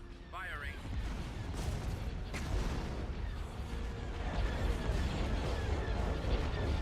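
Starship weapons fire in the Star Wars strategy game Thrawn's Revenge, a busy space battle of repeated blasts and booming impacts running continuously at moderate loudness.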